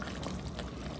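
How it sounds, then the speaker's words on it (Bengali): Milk being poured into a pot of home-style Bengali chicken roast, a soft continuous liquid pour running steadily for about a second, close and fairly quiet. "দিয়ে দিলাম দুধ"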